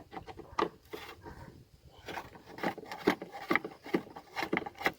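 A star screwdriver turns out the bolts holding a Volkswagen T5 tail light, giving short, close scraping and rasping bursts in an uneven rhythm with brief pauses and no speech.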